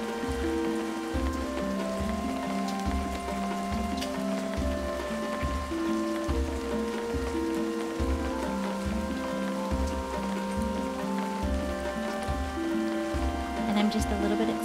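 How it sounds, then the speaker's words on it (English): Steady rain falling in the video game Feather, a constant wash of drops over a seagull's flight around an island, with soft layered music tones running throughout at an even, moderate level. "It's been raining for quite a while for us so far"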